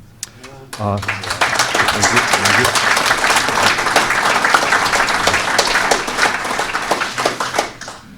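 Rugby fans at a club forum break into loud, continuous applause after a head coach is introduced, with a brief voice at the start before many hands clap steadily.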